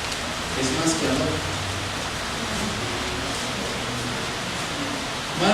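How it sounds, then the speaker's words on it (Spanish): Steady rain falls with a constant hiss and patter, moderately loud and even throughout, with faint speech-like sounds underneath. "Y creo que esta lluvia"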